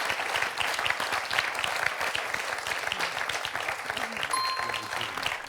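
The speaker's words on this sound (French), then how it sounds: "On peut applaudir Pascal." A studio audience on the French quiz show Questions pour un champion applauds a contestant, a sustained, dense burst of many hands clapping at an even level, with faint studio tones near the end.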